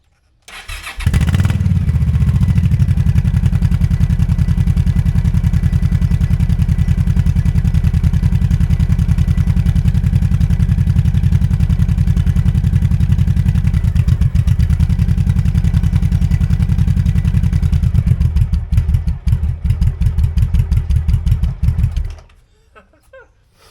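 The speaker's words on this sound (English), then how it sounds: "We have a Yamaha RVS collector on a Honda Pacific Coast, and that's a Dominator pretty open exhaust." A Honda Pacific Coast PC800 motorcycle with an open Dominator exhaust and a Yamaha collector starts up and runs loud and steady close by for about twenty seconds, then cuts off abruptly.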